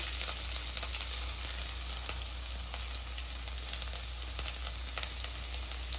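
Chopped ginger and garlic fry in hot oil with a steady, even sizzle and crackle. No talking is heard.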